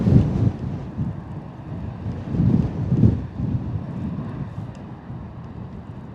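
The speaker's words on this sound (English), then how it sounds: "that gusty wind was hitting me too" Gusty wind buffets the microphone at Bristol Airport, rising and falling in low rumbling bursts that swell around the middle, with a faint hint of a distant aircraft beneath, no talk.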